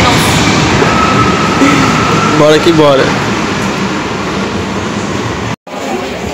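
Brazilian train station turned into a busy trading spot, with a loud steady roar of rail and station noise throughout, a brief rising mechanical tone in the middle, and people talking over it.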